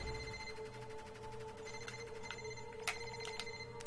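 Telephone in a Silver Dollar Games video game rings continuously with steady electronic tones, with a few sharp clicks near the end, fairly faint.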